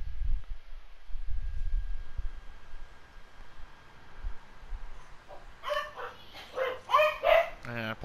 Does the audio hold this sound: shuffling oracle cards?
no